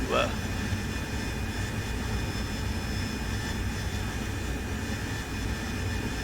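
A steady jet engine roar from an AV-8B Harrier in DCS World fills the whole stretch at an even level, with a voice talking over it near the start.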